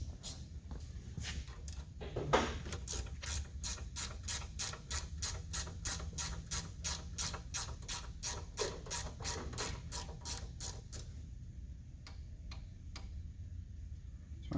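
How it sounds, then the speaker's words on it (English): A ratchet wrench clicking steadily while loosening brake line tins on a Kawasaki Pioneer 1000 utility vehicle, a long even run of sharp close ticks that thins out into a few scattered clicks. "I'm going to need to get a wrench for that."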